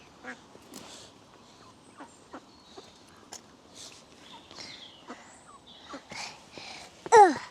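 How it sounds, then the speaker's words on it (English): Ducks at a park pond in Johnston Gardens, Aberdeen, give scattered short quacks near and far, building to a loud close honking call at the end, with a faint voice in places. "And here's the ducks."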